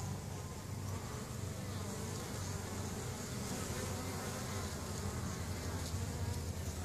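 Russian honeybees at work near their hive make a continuous soft drone of many wings, a dense, even buzz heard from close by without any talking.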